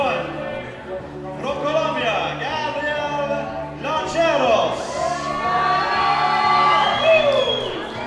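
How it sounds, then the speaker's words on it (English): A Colombian crowd at a bouldering competition cheers loudly with whoops and shouts, the noise swelling and staying strong throughout. A commentator's voice talks over it. "Big cheer from the Colombian crowd as our first Colombian climbers out on the wall."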